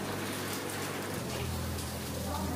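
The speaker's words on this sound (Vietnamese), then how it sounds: "hiện tại ở khu vực này trời đang mưa" Steady rain falls outside a house in a rural Vietnamese community in Guangxi, China, a continuous broadband hiss of drops on surfaces with a faint low hum beneath, fairly distant and even throughout.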